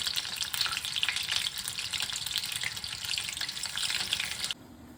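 Prawns frying in a pan over a gas flame, a close, steady crackling sizzle with light stirring that drops away sharply just before the end.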